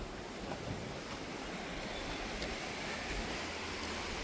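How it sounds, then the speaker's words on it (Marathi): Sea waves washing onto a clean beach on the Konkan coast at low tide, a steady broadband roar of surf mixed with wind rumbling across the microphone, continuous and fairly loud for the whole stretch with no voices. "पण एवढी आवाज लाटा येतात ना"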